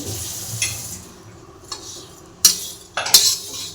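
Thin poha flakes dry-roast in a pan while a metal spoon stirs them, producing sparse scrapes and sharp clinks against the pan over a quiet background, with a few louder knocks toward the end.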